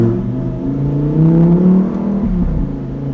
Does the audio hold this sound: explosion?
no